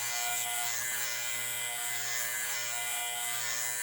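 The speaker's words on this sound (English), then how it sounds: "the grinder is making it a lot easier than doing it on the stones" A bench grinder sharpens a hand plane iron, giving off a steady high-pitched whirring grind with a constant hum beneath it, continuous and close, with no talking.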